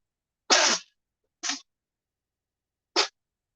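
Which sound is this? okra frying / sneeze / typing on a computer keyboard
sneeze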